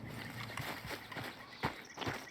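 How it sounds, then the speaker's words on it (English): A horse walking in Red Dead Redemption 2, its hooves clip-clopping in an irregular, close series of soft thuds over quiet outdoor game ambience. "That's my horse."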